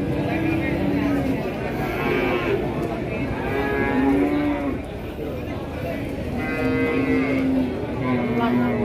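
Cattle lowing at a busy Indonesian livestock market, with several long, deep moos repeating close by over a steady murmur of voices and crowd noise.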